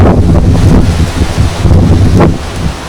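Strong wind gusting across the microphone on a hilltop trek at Makalidurga hill and fort, a loud continuous rumbling buffet that swells and eases without pause.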